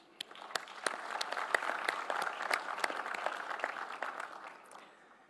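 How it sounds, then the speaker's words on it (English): An audience at the MEDays Forum 15th-anniversary closing ceremony in Tangier breaks into sustained applause, with many hands clapping in a dense wash that swells, holds steady and then tapers off near the end. "all the teams and the network deserve your applause for what they've achieved"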